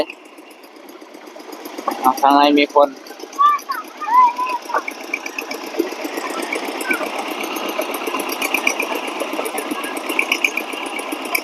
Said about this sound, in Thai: แต่ว่ารถไถเดินตาม แล่นบ่ค่อยไวปานใด